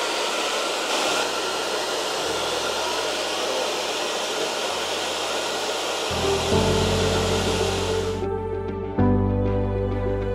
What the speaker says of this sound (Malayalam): അപ്പോൾ നിങ്ങളെ കാണിച്ചു തരാൻ വേണ്ടി ഡ്രയർ കാണിക്കുന്നതാണ് കേട്ടോ.